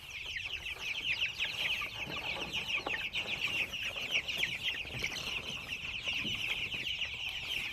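A flock of chickens clucks and chatters continuously nearby, many overlapping calls forming a busy, steady murmur with no talking.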